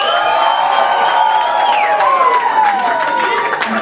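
A comedy show audience claps and cheers loudly to vote for a 'unleash the beast within' act, a steady wash of applause with shrill whoops running through it.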